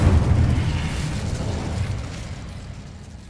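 A fire spell cast in the Hogwarts Legacy video game, a loud deep whooshing burst that starts strong and slowly dies away over a few seconds.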